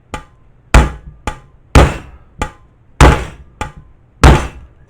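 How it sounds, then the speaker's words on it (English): Eight heavy hammer blows on a 1955 Puch Allstate 250 motorcycle fuel tank to knock out a dent, loud metallic thunks in an uneven rhythm, each ringing briefly before the next strike. "Probably a bigger hammer than I ought to be using."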